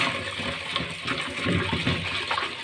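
Lentils are rinsed under running water in a home kitchen, giving a steady, close gush and splash of water that continues throughout, with no one talking.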